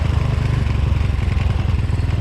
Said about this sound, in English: It was out enough still where the bike needed more throttle, so that's why it stalled.